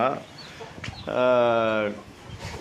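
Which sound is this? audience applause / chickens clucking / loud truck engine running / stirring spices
chickens clucking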